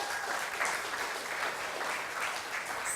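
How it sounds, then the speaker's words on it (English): An audience applauds for an event MC: steady, dense clapping from many hands, moderately distant and fairly quiet, holding evenly throughout without voices. "Everyone, a round of applause"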